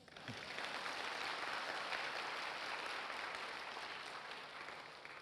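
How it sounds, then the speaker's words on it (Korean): Congregation applauding at a seminary revival meeting, a faint, even wash of many hands clapping that holds steady for several seconds, heard from a distance. "다른 데 부흥회 하면 이런 때 박수도 해줘요."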